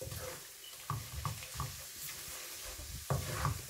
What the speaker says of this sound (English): I'm gonna add 1 tablespoon of plain flour and mix it. We have to cook this flour on medium high heat